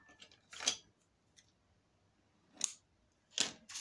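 Scissors snip through a piece of organza ribbon in three separate crisp cuts, close and clear against a quiet background.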